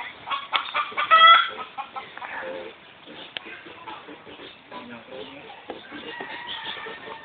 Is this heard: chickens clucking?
yes